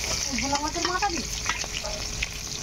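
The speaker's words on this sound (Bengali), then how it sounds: "মাছের মাথাটাও ভাজা হয়ে গেছে" A fish head fries in hot oil in a kadai, a dense, steady sizzle close by, with a brief murmur of speech partway through.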